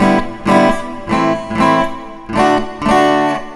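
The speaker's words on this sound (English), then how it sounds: "So I think this one's reverb." Sound through a guitar effects pedal fed by a contact mic with reverb engaged: a series of loud struck tones in an uneven rhythm, each blooming and trailing off in a washy decay.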